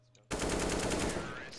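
AK rifle firing in Counter-Strike on the Train map: after a short quiet moment, a loud, sustained automatic burst of rapid, evenly spaced shots rings out close up.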